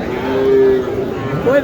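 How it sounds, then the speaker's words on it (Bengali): A cow moos in a long, steady, drawn-out call, then gives a short rising bellow, close and loud over the crowd murmur of the Mataji cattle market in Naogaon. "এখানে একটা পাখড়া গরু দেখতেছি"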